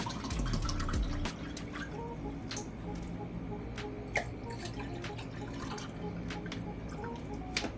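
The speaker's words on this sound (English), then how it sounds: "Then I'll pour in my cold water." Cold water poured into lemonade, a faint steady trickle and splash of liquid filling a container, with scattered soft drips and clinks and little else.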